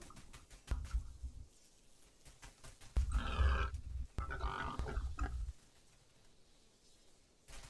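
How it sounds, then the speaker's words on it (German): Pigs grunt and snort in rough bursts, with a long stretch of loud grunting in the middle and quieter pauses between, close by, in the game Everything. "Aber das sind doch Schweine, oder nicht?"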